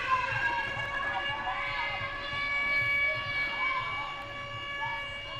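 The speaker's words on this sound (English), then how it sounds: "It's probably not very smart in Nebraska to play a tornado siren." A tornado siren sound effect plays over the arena during a roller derby game in Nebraska, a wavering, rising and falling wail layered with a crowd and voices talking underneath.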